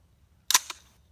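A single AR-15 rifle shot fired on a range, one sharp loud crack with a brief echo trailing after, no voices over it.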